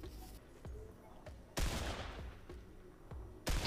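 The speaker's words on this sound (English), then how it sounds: "Wait, someone just fired at me." Sharp gunshots in Fortnite ring out at irregular intervals, a few louder bursts among quieter distant pops, with no voices.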